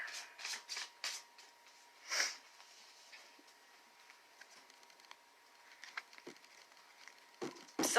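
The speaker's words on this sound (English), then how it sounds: "we'll give the cards a really good shuffle" Tarot cards being shuffled during a reading, several quick riffling bursts close to the microphone with soft pauses between, quiet and heard alone with no talk.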